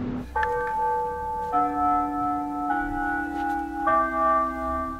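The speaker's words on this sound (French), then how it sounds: "Et sur cette cloche qui sonne les coups de midi, je viens d'arriver." A church-style bell in Japan strikes the noon hour, several resonant tolls a second or so apart ringing out with long sustained hum over faint outdoor background.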